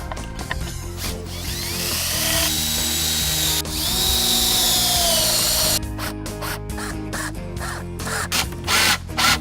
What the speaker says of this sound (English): Now we're gonna put this together and attach it with pocket screws.